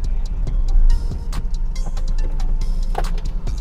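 A 1983 Mercedes G 250 whose original 240 engine was swapped for a 250 turbo, driving with a loud, steady low engine rumble inside the cabin and scattered rattles and clicks.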